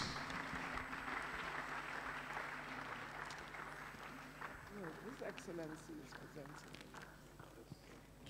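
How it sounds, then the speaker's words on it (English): An audience clapping at a ceremonial decoration event, a diffuse patter of applause from a crowd, moderately distant and quiet, overlapped by people talking and footsteps. "Round of applause."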